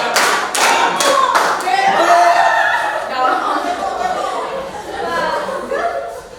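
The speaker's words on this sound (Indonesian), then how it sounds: "lompat, sambil tepuk tangan" Children jump and clap their hands together, a few sharp claps at the start giving way to thuds, chatter and giggling voices close by.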